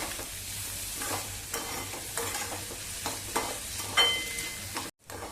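A spoon repeatedly stirs and scrapes a mixture seasoned with salt and finely chopped coriander in a pan, the rhythmic strokes riding over a low, steady sizzle, followed by a brief gap.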